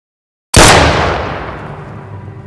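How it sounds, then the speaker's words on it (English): One sudden, very loud gunshot breaks total silence and rings out into a long, fading reverberant tail, heard alone. "That's when I heard what seemed like the loudest gunshot I've ever heard."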